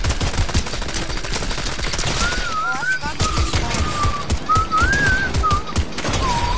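Rapid gunfire from a boss enemy in a video game, dense bursts of shots throughout with whistling tones and a player's voice talking over it.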